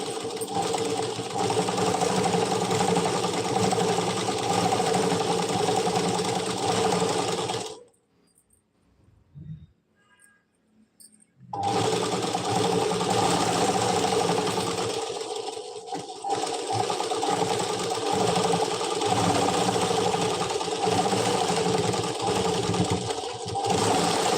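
A sewing machine stitches canvas onto the leg hem of a Punjabi dress pyjama, a loud, close, steady mechanical whirring with a slightly rough running noise, broken by one silent pause of a few seconds before stitching resumes.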